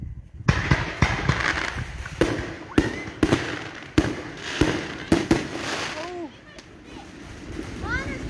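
Loud July 4th fireworks going off in a neighborhood, a series of sharp booms and crackles at irregular intervals, with children and adults talking nearby and whistling rockets rising toward the end.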